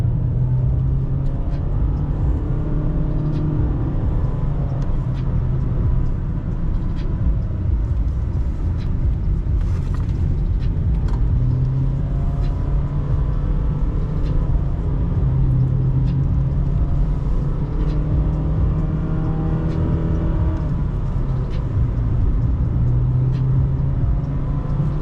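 A Honda Fit driving on mountain backroads in Cyprus, giving a continuous close engine hum and road rumble, with the engine pitch shifting gently as it climbs and eases off.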